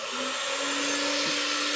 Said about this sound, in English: Now we're gonna turn the vacuum on.